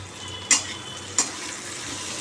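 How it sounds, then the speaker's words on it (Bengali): Large pieces of bitter gourd (karela) frying in a pan, with a steady soft sizzle broken by three sharp, brief spatters or stirs, close and with no talking. "আমি একটু এখন করলা ভাজছি বড় বড় করলা নিয়ে এসেছিলাম এগুলো এখন ভাজছি"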